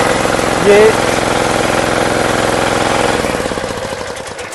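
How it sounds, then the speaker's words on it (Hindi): A diesel key-start engine on a self-propelled reaper cranks briefly and settles into a steady, loud mechanical idle with a rhythmic knock, gradually fading toward the end. "चाबी लगाने के बाद में एक इजीली इसको ये स्टार्ट होगा।"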